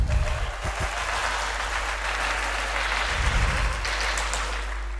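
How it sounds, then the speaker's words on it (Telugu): An audience claps at a large Ramayana conclave speech, a sustained wash of applause over a low steady hum, with a brief swell near the end. "అందరికీ రిక్వెస్ట్ అంటే చప్పట్లు కొట్టండి"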